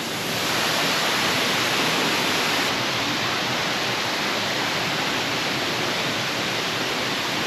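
Loud, continuous roar of waterfalls and springs pouring down in Madeira, a dense steady rush of water filling the whole stretch without a break.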